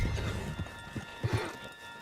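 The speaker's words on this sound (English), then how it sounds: "Put Strauss on the back of John's horse and let's get out of here." Horse hooves clip-clop irregularly on the ground in Red Dead Redemption, moderately near, with a low hum of game ambience and a couple of heavier thuds.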